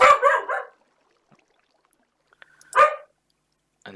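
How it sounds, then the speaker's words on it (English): A dog in the Minecraft video game barks in two short bursts, the first lasting under a second and the second a brief yelp after a long quiet gap, with nothing else playing in between. "And there's the dog again."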